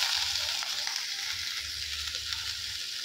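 Onion, garlic, ginger and capsicum sizzle and fry in a hot pan, a steady close hiss with faint stirring clicks and no talk.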